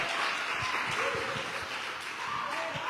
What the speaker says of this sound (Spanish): Dele palmas al Señor en esta hora.